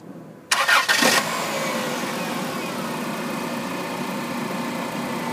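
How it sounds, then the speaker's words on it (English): A car's 2.4-litre dual overhead cam engine cranks briefly with a short starter whir, catches, and settles into a steady, smooth, quiet idle close by. "Jeremy, start this engine for me."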